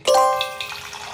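An RO water purifier dispenser fills a normal-size glass with water in a short, steady pour that starts with a brief tonal ring, then settles into a softer trickle. No one talks.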